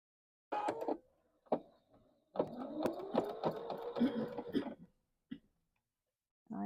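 A sewing machine stitching two quilt pieces together in short bursts: one brief run, then a longer steady whirring stretch of about two seconds, with quiet pauses and small clicks between.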